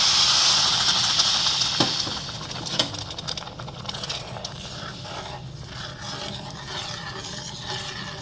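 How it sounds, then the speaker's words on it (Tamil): Jaggery dissolved in a tumbler of water simmers in a pan on the stove, giving off a steady hiss and bubbling sizzle that eases slightly over several seconds. "பாகு காய்ச்சிக்கலாம்."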